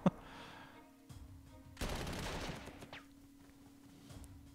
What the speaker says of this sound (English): let's go ahead and pound this city into oblivion with all of this artillery